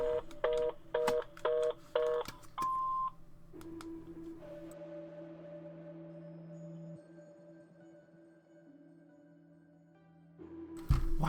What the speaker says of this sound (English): Why does the phone make those noises?